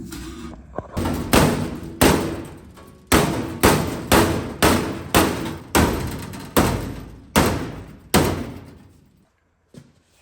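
Loud metallic hammer blows land one after another at an even pace, about a dozen strikes, each ringing briefly before the next, hammering a metal panel on a 1950 Ford F1 truck.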